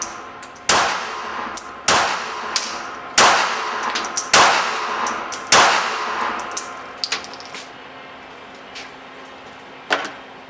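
A Beretta Pico .380 pistol fires a string of shots outdoors, about eight sharp loud cracks with ringing tails at uneven intervals, then a pause before a single later shot.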